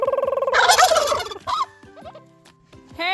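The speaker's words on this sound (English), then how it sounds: "Turkeys." Turkeys gobbling outdoors on a cold winter day, several loud rapid rattling gobbles up close with short gaps and quieter clucks between, a fresh burst at the end.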